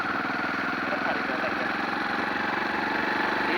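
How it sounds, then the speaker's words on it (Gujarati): A motorbike rolls slowly past a temple, its engine giving a steady, close, low drone with an even rhythmic pulse and no change in speed. "બાઇક ધીરે ધીરે ધીરે ધીરે ચલાવતા જઈએ છીએ"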